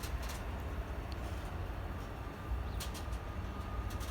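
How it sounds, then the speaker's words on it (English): A Freightliner Class 66 diesel locomotive hauling a ballast train works under power, giving a steady, fairly distant low engine rumble and rolling noise throughout, with faint birdsong above it. "And the train is under power."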